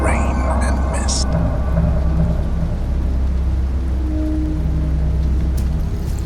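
A dense rainstorm pours steadily with deep rolling thunder rumbling underneath, loud and continuous throughout, with a narrating voice speaking over the storm.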